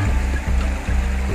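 A rocky river flows steadily nearby with a continuous close rush of water. Low pulsing rumbles run beneath it in a short burst.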